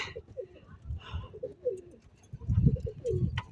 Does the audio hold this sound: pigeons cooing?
yes